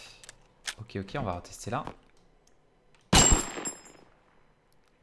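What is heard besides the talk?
Winchester rifle gunshots in Totally Accurate Battle Simulator video game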